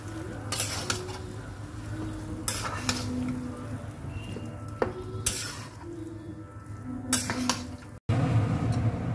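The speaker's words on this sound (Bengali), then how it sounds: "এবার আমলকিটা জলটা টানা অবধি এবং তেলটা পুরোপুরি এই ঘিটা এর মধ্যে পুরোপুরি অ্যাবজর্ব হয়ে যাওয়া পর্যন্ত এটাকে রান্না করতে হবে।" Amla pieces cook in ghee and oil for homemade chyawanprash, with a spoon scraping and clinking against the pan in repeated bursts over a soft, continuous sizzle, close and moderately loud.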